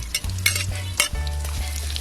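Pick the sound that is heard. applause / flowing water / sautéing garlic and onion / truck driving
sautéing garlic and onion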